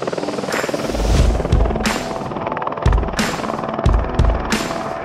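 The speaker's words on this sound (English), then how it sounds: "The Air Greenland helicopter heads to town to pick up the remaining members" An Air Greenland helicopter's rotor chops loudly and steadily, with low thumping pulses and bursts of whooshing noise as it passes close by.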